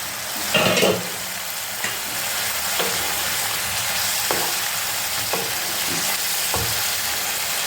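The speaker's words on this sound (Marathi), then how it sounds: "आता याला आपण पाणी आटेपर्यंत शिजवणार आहोत" Kaleji petha, goat liver and lungs, simmering uncovered in an open pan over a low flame as its water cooks off, with a steady close sizzle broken by several sharp stirring clatters.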